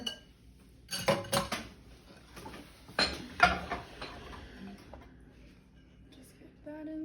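Cookie dough for chewy chocolate chip cookies being mixed in a bowl, wet ingredients worked into the dry mix, with irregular scraping and clinking bursts of utensil against bowl, loudest in the middle, and brief background speech.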